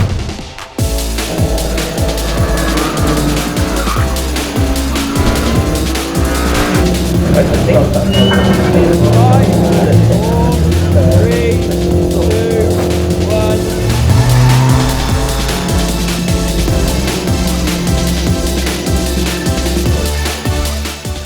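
BMW 116 Trophy race cars on track, engines droning loudly and continuously with shifting revs and some tyre noise, heard up close for the whole stretch with no talking.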